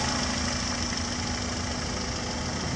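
A 1988 Honda Prelude's 2.0-litre fuel-injected engine, a junkyard replacement with 113,000 miles, idles steadily with an even, low mechanical hum and slight rhythmic pulsing, heard close and alone.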